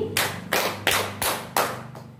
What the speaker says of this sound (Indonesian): Tepuk 1 kali, tepuk 5 kali